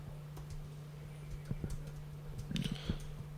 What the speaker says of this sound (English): Just typing something up.